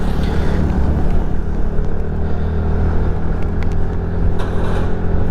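A TVS NTorq 150 scooter is ridden on a road and turned around in a U-turn, giving a loud, steady engine hum with wind rumble close to the rider.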